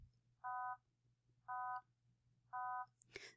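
A synthetic complex tone built on a 250 Hz fundamental with its second harmonic removed sounds three times, as evenly spaced, steady beeps of about a third of a second each, followed by a brief click.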